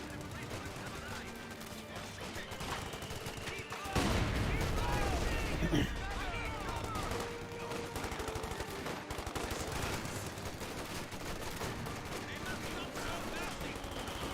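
MG42 machine gun fire rattles through a Company of Heroes 2 battle, with a louder burst mid-way over continuous combat noise and scattered shots; a voice talks over it at times.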